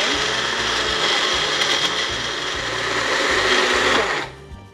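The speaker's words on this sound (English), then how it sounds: "This magic bullet is perfect for this kind of stuff, you guys. So, and then I'm going to make my tomato puree." A Magic Bullet blender purees tomatoes with a steady, loud whirring drone that runs close and unbroken for several seconds, then cuts off abruptly near the end.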